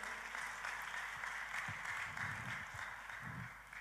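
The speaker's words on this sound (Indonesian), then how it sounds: "Kita kasih tepuk tangan saudaraku." A church congregation applauding during a worship service, a short burst of scattered clapping heard from the room at moderate distance.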